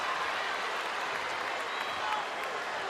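Basketball arena crowd roaring steadily after a made three-pointer in a college game, a dense wash of cheering and applause at constant loudness throughout.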